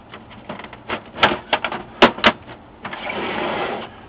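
The plastic case of an HP LaserJet 4P printer is slid back into place, giving a run of close, sharp clicks and knocks, then a brief scraping slide.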